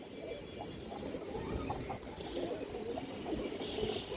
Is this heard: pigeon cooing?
yes